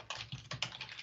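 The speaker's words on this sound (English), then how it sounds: "and you can just start typing" Quiet keystrokes on a computer keyboard, around half a dozen soft, quick clicks in an uneven rhythm, close to the microphone with no talking.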